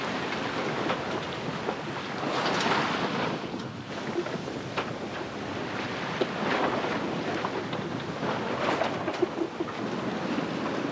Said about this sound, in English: For some reason, Wilson does not want to keep up with this wind and the waves